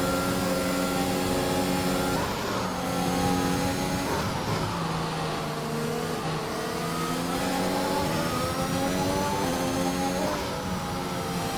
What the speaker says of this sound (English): let's see if this Mercedes engine, what can it do compared to the Renault engine in the back of that Alpine